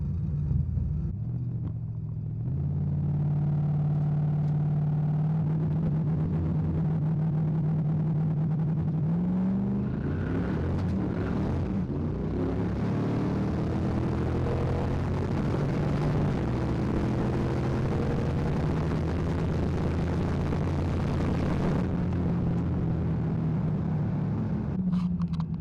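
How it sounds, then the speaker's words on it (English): A turbocharged Ford Mustang drag car launches from 2400 RPM at a test-and-tune event, a loud, close engine holding steady, then rising into a hard, sustained roar as it accelerates away before fading; no voices. "2400 RPM launch. No launch retard."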